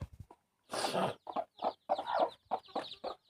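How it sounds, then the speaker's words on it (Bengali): Chickens cluck in short bursts close by as they feed, a run of quick, irregular calls with brief pauses between them. "দেখুন মুরগিগুলো কিন্তু খেতে এসছে সবাই"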